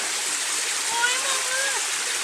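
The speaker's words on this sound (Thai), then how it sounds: "ก็มาถึง น้ำตกนะ" A waterfall at a forest campsite roars as a steady broadband rush of water, with faint voices under it.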